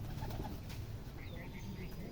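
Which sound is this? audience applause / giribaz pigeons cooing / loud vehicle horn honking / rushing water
giribaz pigeons cooing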